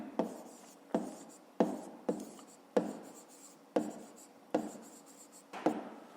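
A pen writes on paper in a maths exercise, with about nine short scratchy strokes that come in a loose, fairly even rhythm, close and quiet with nothing else around.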